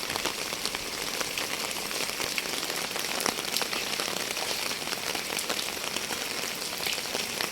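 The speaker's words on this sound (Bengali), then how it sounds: "টিপ টিপ করে বৃষ্টি" Light drizzle falling on an early morning, a dense, even patter of raindrops on surfaces, constant and steady throughout, fairly close with no voices.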